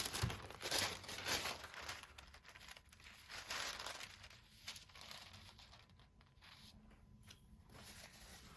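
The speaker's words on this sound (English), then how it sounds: "Tissue paper." Soft, continuous crinkling and rustling of tissue paper being handled during a gel printing session, close and quiet, with no voices.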